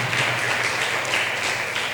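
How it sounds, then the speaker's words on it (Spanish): A church congregation claps in a dense, continuous round of applause, moderately loud and without talk. "denle un aplauso al Señor"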